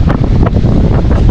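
Strong northeast monsoon wind buffets the microphone at a seashore, a loud, gusty roar with rough bursts over the sound of the sea.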